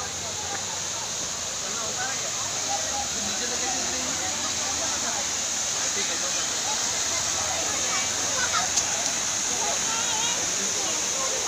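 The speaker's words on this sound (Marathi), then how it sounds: "हा आहे भाजे धबधबा" Bhaje waterfall near Lonavala, a continuous broad roar of falling water that stays steady and fairly loud throughout, with no other clear sounds.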